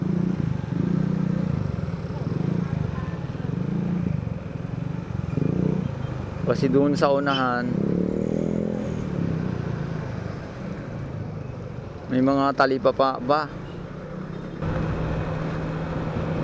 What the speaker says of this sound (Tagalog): Ayun, nata-traffic na dito.